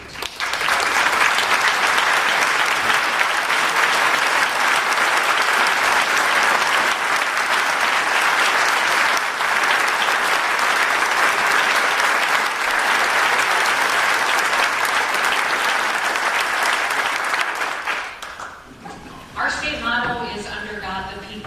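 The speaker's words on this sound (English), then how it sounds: "ask you to give them a round of applause" Sustained, loud applause from a large audience honoring military service members and veterans at a governor's budget address, steady for about eighteen seconds before fading as a voice begins speaking.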